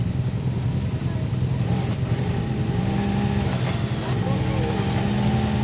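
A UTV engine in four-wheel drive grinding up an off-road trail at night, a steady loud rumbling drone with shifting revs and no letup.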